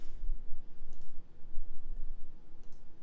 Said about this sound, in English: Can you hear me clicking?